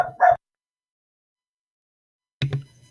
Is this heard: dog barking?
yes